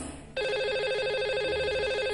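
A telephone rings out on a radio show line as a caller is dialed, a steady bright warbling ring starting after a brief moment of background and continuing loudly to the end.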